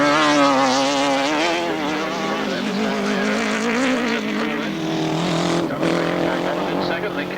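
Left-hand sidecar outfits racing on a 1995 grasstrack, their engines roaring loud and continuous with rising and falling revs as the machines pass close by.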